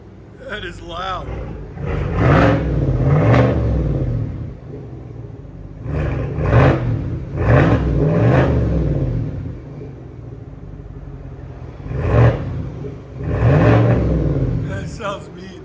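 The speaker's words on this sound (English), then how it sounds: "We'll let you guys hear the first AT4 straight piped." A straight-piped 2023 GMC Yukon AT4 with a 5.3L V8 revs loudly and close by in repeated blips. The engine rises and falls several times, and people talk and react between the revs.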